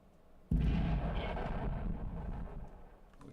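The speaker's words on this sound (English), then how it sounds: "When it hits a target, there's a delay and then it spawns a meteor explosion." A sudden deep explosive boom from a video game meteor explosion that hits hard, then rolls on as a rumbling roar and slowly fades away.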